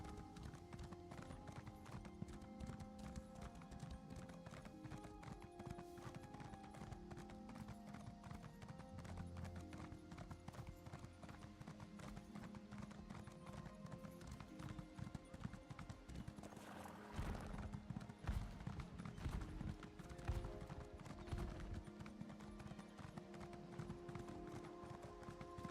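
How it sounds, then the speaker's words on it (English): Horse hooves clip-clop in a rapid, steady galloping rhythm throughout a long stretch of Elder Scrolls Online gameplay, fairly faint and mixed with game ambience and occasional faint voice. "I love how fast the horse rides."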